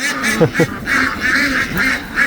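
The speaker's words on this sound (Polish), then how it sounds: "musiałem wypuścić kaczki, bo nic by mi nie dały powiedzieć" Ducks let out in a farmyard quack repeatedly in a nasal, rhythmic chorus, several birds close by with overlapping calls.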